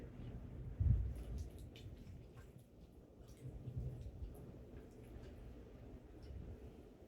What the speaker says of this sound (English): Sounds like some thunder out there.